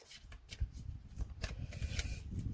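A deck of cards is shuffled and a card drawn for a reading, giving soft riffling and flicking taps, quiet and close with brief snaps.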